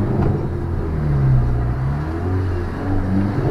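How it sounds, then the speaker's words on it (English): A 2.0 TFSI mk2 Skoda Octavia vRS engine revving with a low, rumbling exhaust note that rises and falls over a few seconds, heard fairly close with no talk; distinct pops are not clearly separable. "You almost hear it like popping off four cylinders."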